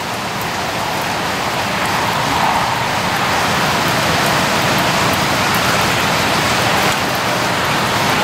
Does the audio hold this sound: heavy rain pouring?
yes